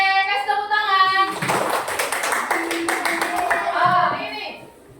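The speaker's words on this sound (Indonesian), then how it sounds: "kasih tepuk tangan" Children in a classroom lesson clapping in a quick, irregular burst of hands beneath a teacher's raised voice and kids' chatter, the clapping loosening into scattered taps as the talk continues.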